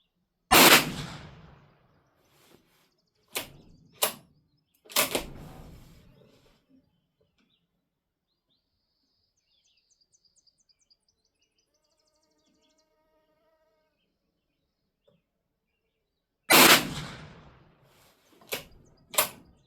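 Gunshots from a Derya DYBA-16 shotgun at a shooting range, loud sharp blasts in two clusters separated by a long quiet stretch, each shot ringing out briefly.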